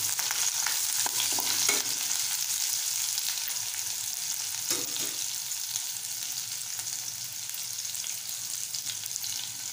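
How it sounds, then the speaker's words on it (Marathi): Finely chopped green chillies sauté in a hot pan for a Malvani-style soyabean chilli, giving a steady close sizzle with a few stirring scrapes throughout and no talking. "इथे 2 हिरव्या मिरच्या बारीक चॉप करून घेतला आहे तो टाकूया आणि छान परतवून घेऊया।"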